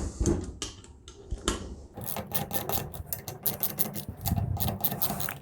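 Metal tool clicks and ratchets while 1/2-inch bolts are worked loose from the back plate of a Febco 825YA relief valve, with close rapid repeated ticking and scraping, denser in the second half.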